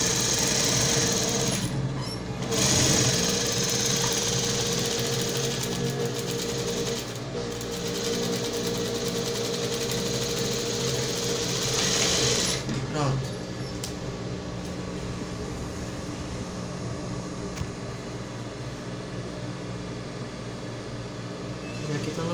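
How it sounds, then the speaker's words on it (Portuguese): A sewing machine stitches the remaining section of a dress strap with a steady, close mechanical whir, briefly pausing twice, while someone talks in Portuguese over it; the motor stops near the middle and quieter handling sounds follow. "vou costurar essa parte restante aqui, ó. Costurar"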